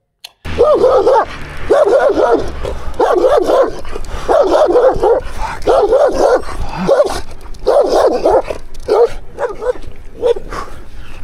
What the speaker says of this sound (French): c'est au sujet des chiens errants au Pérou, et même pas des chiens errants, les chiens aussi qui appartiennent à quelqu'un